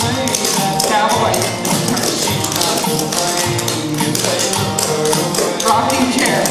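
Tap dance steps rap out on a hard floor, with dense rapid brushes, stomps and triples in a continuous rhythmic stream, loud and close, over backing music.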